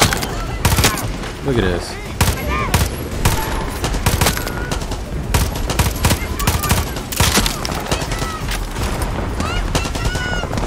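Loud gunfire in Far Cry 6: rapid automatic bursts and sharp single shots crack repeatedly throughout, close by, with someone talking briefly between volleys.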